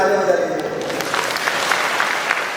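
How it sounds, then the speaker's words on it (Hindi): A seminar audience of students claps together after a hand exercise, a brief tone fading at the start as dense, fairly close applause continues to the end. "अपनी तालियां बजा लीजिए"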